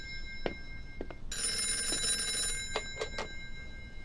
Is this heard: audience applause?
no